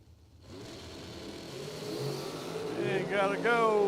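A dragster engine revs at a bracket racing drag strip, starting after a short silence and building into a rising, growling roar that grows louder toward the end, with a voice briefly audible over it.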